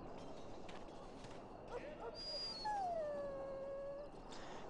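A dog in the video game Dragon Age Origins whimpers and then lets out a long, drawn-out howl, clear and fairly close over quiet background ambience.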